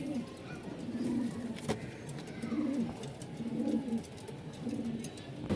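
A pair of fancy pigeons, a male and a female, coo softly in repeated low rolling calls close by, several phrases in steady rhythm with no talking.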